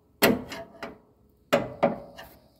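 Five sharp metallic taps of a hammer on a screwdriver, loosening a blade on a Cub Cadet ZT1 50-inch zero-turn mower, in two clusters, close and fairly loud, each ringing briefly before the next strike.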